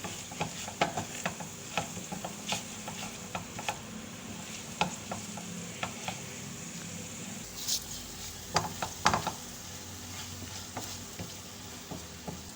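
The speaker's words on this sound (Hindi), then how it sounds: "और मसालों को अच्छी तरीके से भून लूँगी" Spices, black pepper and garam masala, stirred and roasted in a pan for egg khagina: a steady sizzle with repeated spoon scrapes and knocks against the pan throughout.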